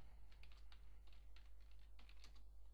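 Steady typing on a computer keyboard while making a logo in Microsoft Word 2010, quick close clicks in an even rhythm over a low constant hum, with no talking.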